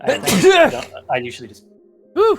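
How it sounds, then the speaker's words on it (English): A sudden sharp sneeze bursts out loudly right after a person starts talking, followed by a short pause and another brief vocal exclamation. "rude sneeze"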